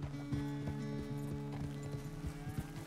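Horse hooves clop at a steady walking rhythm in Red Dead Redemption 2, close and evenly paced over a low ambient background.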